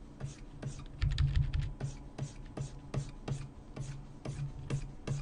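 Square bracket keys tapped on a computer keyboard, a run of close, crisp clicks at a brisk uneven rhythm, with one quick flurry of keystrokes, under no talk.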